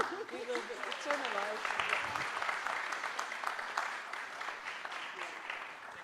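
Conference audience applauding at an international agri-food production event, steady clapping throughout with a few voices mixed in.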